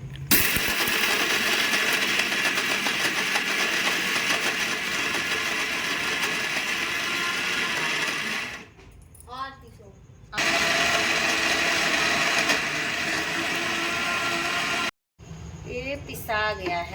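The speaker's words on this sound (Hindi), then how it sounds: "अब इसको हम देखो ग्राइंडर करते हैं," Electric kitchen grinder running steadily on spice ingredients for about eight seconds, stopping briefly, then running again for a few seconds before a second short pause; loud, close and continuous while on.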